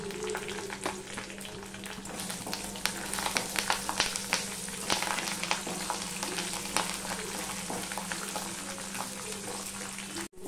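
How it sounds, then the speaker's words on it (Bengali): Continuous crackling sizzle of peanuts, dried chilies and curry leaves frying in hot oil, close and steady, with occasional sharper pops and stirring scrapes. "বাদাম, শুকনো লঙ্কা, কারি পাতা সব ভাজা হয়ে গেছে"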